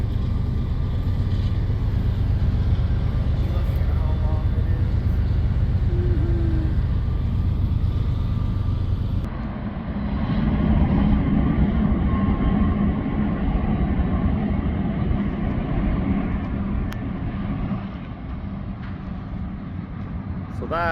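A long train rumbles past on a desert line near the Salton Sea, a loud, sustained roar that shifts partway through as cars keep rolling by close at hand.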